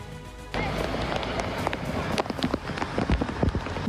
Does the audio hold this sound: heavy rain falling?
yes